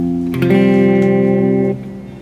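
An electric guitar chord rings out through a reverb effect, struck once and sustained with a rich, shimmering tail that fades after the strings stop, loud and close with no voices.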